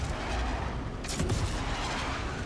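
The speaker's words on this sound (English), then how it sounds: "Fire some missiles in." Missiles launched from a large ship in the space game Star Citizen give off a dense rumbling roar with a burst of whooshing blasts near the middle, loud and continuous with no voices.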